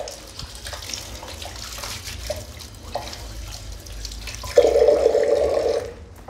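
Tap water runs steadily into a sink as hands wash up after setting white cement during the installation of a wall-hung toilet frame, a close constant splashing stream that grows louder and fuller near the end, with no speech.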